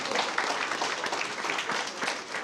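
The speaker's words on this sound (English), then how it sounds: "Let's give her a round of applause." An audience at an entrepreneurship week youth advisory clinic applauds, a continuous even patter of many hands clapping.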